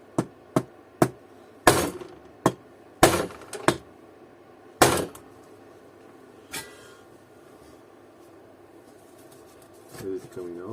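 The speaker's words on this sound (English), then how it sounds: "Let's try to take the rotor out." Hammer blows on a Bosch 100A alternator from an Opel/Vauxhall Zafira, Astra or Vectra while knocking the rotor out, about ten sharp metallic strikes, some doubled, close and loud in the first five seconds, then a quieter workshop.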